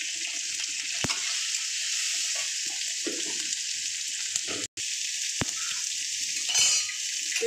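Chopped tomatoes sizzle in a pan for a vegetarian mixed vegetable curry, a steady soft hiss with a few sharp clinks.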